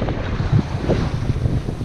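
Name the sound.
wind and choppy sea waves on a sailboat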